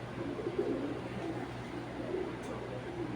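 Pigeons kept as fancy breeds give soft, low cooing phrases that recur steadily over a constant background hum, with no talking.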